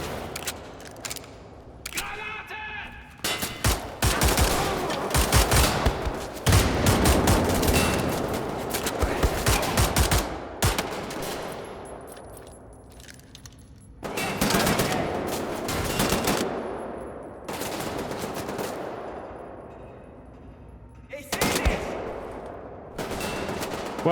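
Bursts of video-game gunfire in a first-person shooter set among Nazis, loud rapid volleys and machine-gun strings broken by short pauses, with repeated clusters of shots across the stretch.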